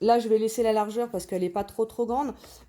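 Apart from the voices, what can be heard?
None of the usual background noises is heard.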